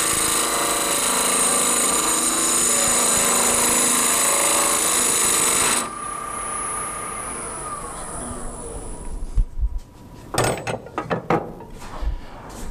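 A wood lathe spins a log section while a tenon is turned on its end, a loud steady mechanical drone for several seconds that drops off and gives way to intermittent scraping and knocking.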